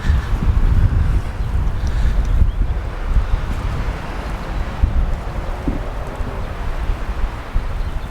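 Steady wind blows through a cemetery, a low continuous rush and buffeting against the microphone that stays loud throughout, with no talking.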